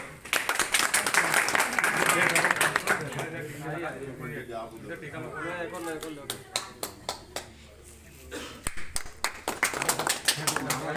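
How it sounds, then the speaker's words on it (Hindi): A crowd claps at a welcome gathering for a state minister held by a Patel community organisation: dense hand claps open the clip, give way to talk and scattered claps, then resume as sharper, irregular claps near the end. "बजाओ ताली"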